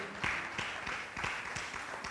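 An audience at a performing arts conference at the Kenya National Theatre applauds, with faint clapping that swells in a steady rhythmic pulse throughout.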